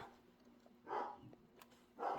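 A guard dog barks twice from a little distance, two short separate barks about a second apart over a quiet indoor background.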